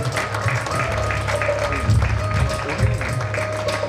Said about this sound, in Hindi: एक बार आप सभी तालियों से डॉक्टर दलीप सिंह जी का स्वागत करें